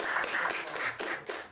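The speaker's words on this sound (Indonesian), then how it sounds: "tepuk tangan semuanya" Studio audience applauding at the opening of an Indonesian talk show, a steady wash of clapping for under two seconds with slight swells, no voices on top.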